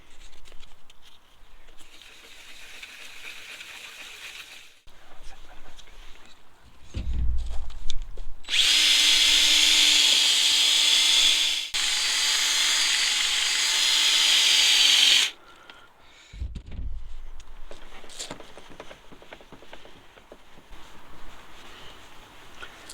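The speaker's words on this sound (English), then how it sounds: "I'm going to go over it with the 1000 grit and then go back over it with the T-cut" A power tool whines steadily and loudly for about seven seconds, with a short break in the middle, while sanding a BMW 120d 1 Series headlight lens with 1000 grit. Quieter handling noises come before and after the run.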